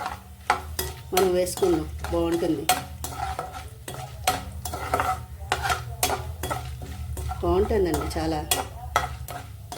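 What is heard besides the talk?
frying and stirring spices with asafoetida in a pan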